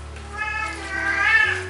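A cat meows at a door in a single drawn-out, rising call that swells toward the end, fairly close and clear over a low steady hum, with no talking.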